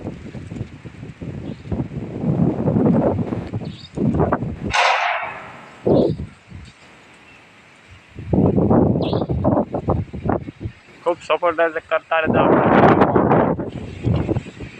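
Gusty storm wind roars against the microphone in bursts before rain starts, with people talking over it and brief gaps of quieter air between the gusts.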